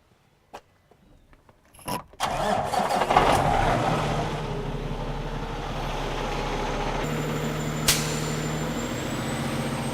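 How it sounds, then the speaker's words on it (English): A heavy-duty truck engine is started after a few faint clicks and knocks, cranks and catches with a loud surge, then settles into a steady, rumbling idle close by, with a brief sharp hiss partway through. "So we'll start the truck."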